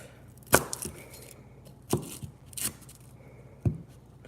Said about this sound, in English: you will cut the onion, start from one edge